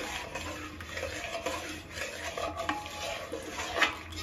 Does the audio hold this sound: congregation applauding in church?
no